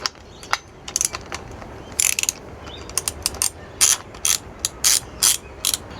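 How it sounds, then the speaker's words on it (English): A ratchet with a 16 mm socket loosens the spark plug on a 2007 BMW R 1200 R Hexhead motorcycle, giving close, loud clicking bursts that repeat about ten times with brief pauses between them. "Next we're going to remove the spark plug from the top. Just use a 16 mm socket."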